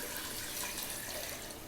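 Water pours steadily into a pressure cooker holding goat legs, a brief continuous hiss-like splash at moderate distance with no talking.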